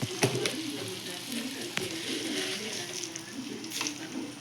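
Cumin and mustard seeds spit and sizzle in hot oil with crushed garlic, a soft, steady frying crackle with a few sharp pops, heard close but quiet.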